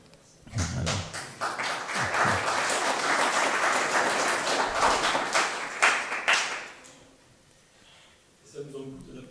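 A church congregation at a Sunday service bursts into applause, several seconds of steady, fairly close clapping from many hands that stops abruptly, followed by a voice speaking.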